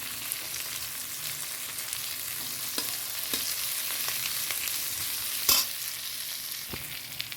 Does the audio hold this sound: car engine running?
no